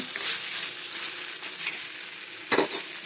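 Tomato, potato and coconut vegetables are stirred while frying in a pan, making a steady close sizzle with occasional scraping bursts from the spoon.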